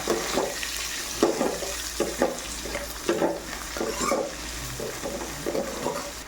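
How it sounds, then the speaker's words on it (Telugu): Onions with salt and turmeric fry in a pan for a poha snack, with a steady close sizzle and a spoon scraping and stirring in regular strokes about once a second, and no voices. "ఉల్లిపాయ కూడా మనకి త్వరగా మగ్గిపోతుంది అన్నమాట"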